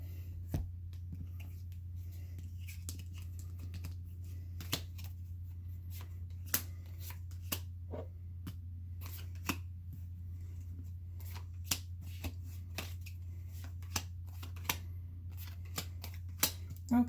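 Tarot cards are shuffled softly nearby, giving light intermittent snaps and riffles over a low steady hum.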